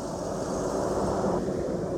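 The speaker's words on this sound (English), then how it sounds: "Sorry for the traffic noise." Steady broadband traffic roar from passing vehicles near an early-1800s house in a Vermont neighborhood, a continuous wash of noise at constant loudness with no talking.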